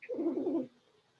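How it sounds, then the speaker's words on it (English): A cat's short, soft trilling chirp at birds, lasting about half a second, fairly close, followed by quiet. "I happen to have a cat who is chirping happily at the birds."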